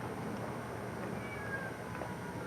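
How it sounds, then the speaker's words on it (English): A cat meows faintly in a residential yard with flowers, under a steady background hum with no talking. "I hear a kitty cat."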